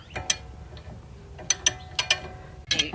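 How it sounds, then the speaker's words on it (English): A small Harbor Freight ratchet clicks in short separate bursts while being tightened to pull a rear brake rotor off a 2019 Mazda CX-5, the ticks close and crisp over a quiet background. "take your little Harbor Freight ratchet here, and you go ahead and just tight along, and it should pull this rotor off"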